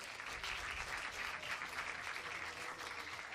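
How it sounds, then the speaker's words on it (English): Spectators applaud at a skeet shooting competition, a steady, moderately distant patter of many hands clapping outdoors, continuous for a few seconds with no talk. "Come on everybody, big applause."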